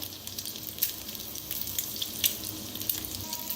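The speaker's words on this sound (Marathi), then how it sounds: "मस्त आपला अंड भाजायला लागलेला आहे बघा" A single salted egg sizzles in a hot pan, a faint, even crackle broken by small pops and spits, with no talking.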